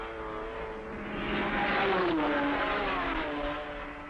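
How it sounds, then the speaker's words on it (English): A 1965 Triumph Spitfire race car roars past the pits at full speed during the Le Mans 24-hour race, its engine note building loud and then dropping in pitch as it passes close by. "Full bore past the pits and the leading Spitfire is Robbie Slaughtermarker's."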